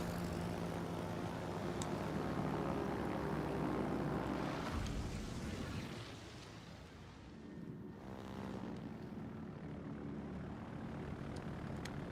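Aircraft engines in World of Warships naval battle gameplay, a sustained propeller drone that swells then fades and dips before a softer roar returns, fairly faint and continuous with no voices.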